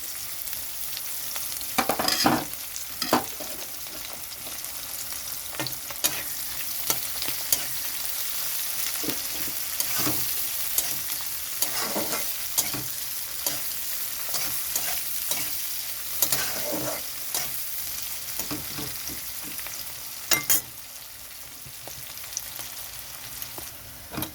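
Chopped onion and green chilli fry in hot oil in a pan, giving a continuous close sizzle broken by frequent scraping and clinking stirring strokes, with no voices.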